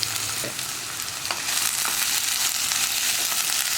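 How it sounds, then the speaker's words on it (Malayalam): Sliced onions sautéing with salt in hot oil for Kerala-style mutta varattiyathu, a steady bright sizzle with stirring scrapes partway through, close and continuous with no talk. "ഈ സവോളയ്ക്ക് ആവശ്യമായിട്ടുള്ള ഉപ്പ് ചേർത്ത് വഴറ്റിയെടുക്കാം"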